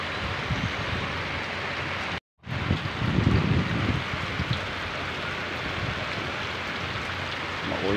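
Rain falling steadily at Coron, a constant dense hiss of drops with some wind noise, loud and enveloping, broken by a momentary dropout and soft low thumps.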